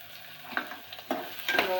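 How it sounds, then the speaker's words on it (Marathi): Onion frying in a pan for a Konkan wild greens curry makes a brief, faint sizzle broken by a few light stirring scrapes. "कांदा टाकलेला आहे, कांदा पूर्ण लाल करून द्यायचं"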